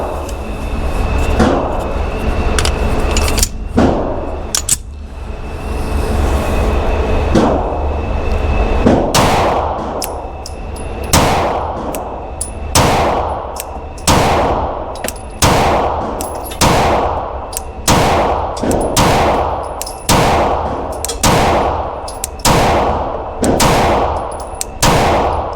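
A Rost Martin RM1C compact pistol with a 15-round magazine fires about twenty loud, sharp shots outdoors, first an irregular string and then a quicker steady cadence, each crack ringing off briefly, with no talk.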